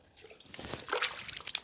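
A rabbit carcass going into cold water, heard as close splashes and drips that build into a brief sloshing with a few sharp droplet sounds at the end.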